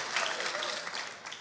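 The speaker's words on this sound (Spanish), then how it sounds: "Denle un aplauso a nuestro Dios." Congregation applauding at a pastors' retreat church service, a dense, steady wash of many hands clapping close and loud throughout, with no voices standing out.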